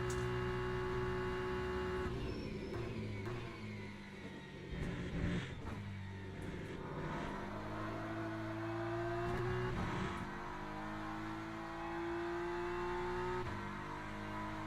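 A GT3 race car engine in the Le Mans Ultimate racing game drones and revs through the gears, the pitch climbing and dropping with shifts and a brief busy stretch mid-run, steady and close with no talking.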